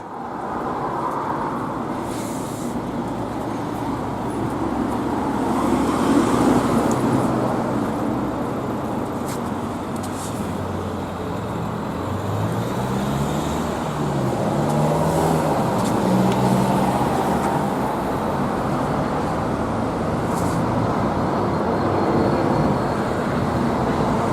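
Cars pass along a town-centre street in Ashton-in-Makerfield, a continuous traffic rumble with engines swelling and fading as vehicles go by close at hand, and no talking over it.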